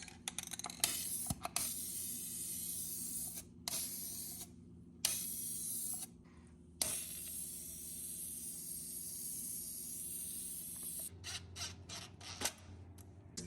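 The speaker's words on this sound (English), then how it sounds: "I'm gonna start spraying" Spray paint hisses in long continuous bursts under the fender and suspension of an off-road Toyota 4Runner, with brief pauses between passes and a steady low hum behind.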